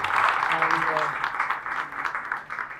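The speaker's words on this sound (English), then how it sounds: "So a big round of applause for" Applause for a five-time world chess champion at a tech gathering, a roomful of hands clapping steadily at moderate loudness while a voice speaks over the start.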